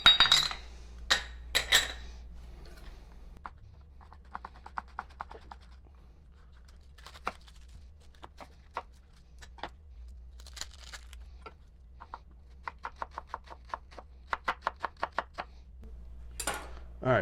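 Knife chopping half a red onion and a Serrano pepper on a cutting board: scattered quiet taps, then quick rhythmic bursts of cuts near the end over a low steady hum.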